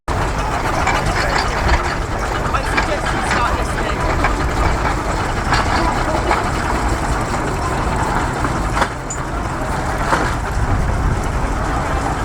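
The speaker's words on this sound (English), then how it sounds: "About as big as they come, those single cylinder thrashing engines" A large vintage Fowler single-cylinder threshing engine runs steadily at an outdoor country show, a loud continuous mechanical chug and rumble with a brief dip near the end.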